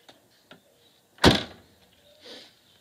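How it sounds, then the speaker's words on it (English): The trunk lid of a Mercedes SLK R170 closes with a single sharp thunk and a short rattling decay from the license plate, with faint clicks before and a soft knock after. "that rattle is my license plate"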